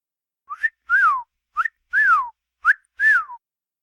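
Melodic human whistling heard alone in a stage drama: three paired phrases, each a quick upward chirp followed by a longer falling glide, clear and close.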